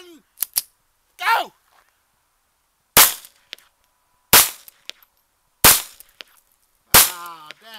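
Ruger MKIII pistol shots at an outdoor shooting range, several sharp cracks spaced a second or so apart, loud and close, with brief pauses between and a voice speaking once near the start.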